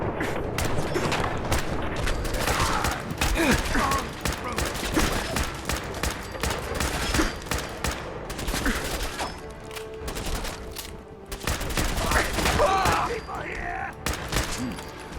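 Dense, continuous gunfire in Fallout 4 crackles and rattles in rapid bursts with loud booms mixed in. The chaotic barrage runs throughout without letting up.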